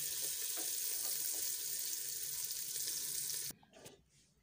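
Finely chopped garlic and green chilies fry over a low flame with a dense, even hiss of sizzling oil that runs steadily and then cuts off abruptly, leaving a few faint knocks behind.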